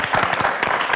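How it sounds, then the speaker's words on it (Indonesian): Studio audience applause on an Indonesian health talk show, a dense burst of clapping filling the second at steady loudness with no talk over it. "Boleh dikasih tepuk tangan ya."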